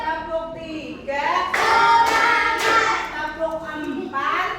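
A class of children claps in a counting rhythm at a teacher's prompt, a few sharp broadband bursts of clapping mixed with voices, fairly close and loud.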